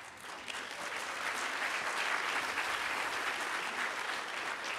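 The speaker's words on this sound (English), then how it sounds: "Applause for Dad." Warm, sustained applause from a large audience at a university commemoration day event, a dense even wash of clapping that swells in after a moment and holds steady.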